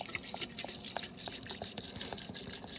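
Cleaning liquid poured in a hefty splash into glass mason jars, a quiet run of irregular drips and trickling splashes, fairly close and without speech.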